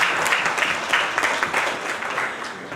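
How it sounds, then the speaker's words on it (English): Audience applause at an agricultural and food engineering conference session, a moderately loud wash of clapping that rises, pulses a little and then tapers off. "So huge round of applause for C.R."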